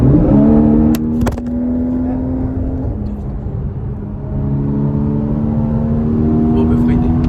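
A Porsche in sport plus mode accelerates through a tunnel, its engine droning loudly, dipping briefly and then climbing in pitch as it pulls harder, while people talk over it inside the car.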